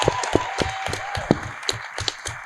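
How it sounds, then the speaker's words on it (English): An audience at a Power Rangers panel at Power Morphicon 2022 gives a light round of applause: distinct, fairly sparse claps in a loose rhythm, close and crisp, with a faint tone lingering underneath. "Can we have a round of applause?"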